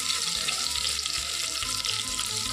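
Green chillies and crushed garlic fry in hot oil for tomato bath, a bright continuous close sizzle with low rumbling underneath, no talking.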